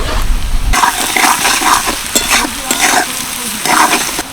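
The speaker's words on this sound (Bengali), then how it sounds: "পেঁয়াজটা দেখো বেশ লাল লাল করে ভেজে নিলাম।" Onions sizzle loudly in oil with fenugreek while being stirred, a close, continuous frying hiss with repeated scraping strokes of the spatula.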